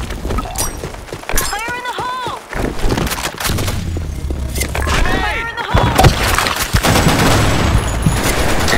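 Gunfire bursts and explosive blasts from the online shooter game Blackshot, with dense rapid shots and booms layered under a voice and game effects throughout.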